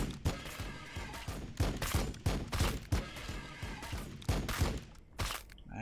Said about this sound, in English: let's just fire into these guys